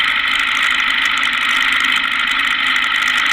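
A small airplane lands on the grass runway at Weedhopper Meadow Airport, its engine droning loudly and steadily from close inside the cabin with no breaks throughout.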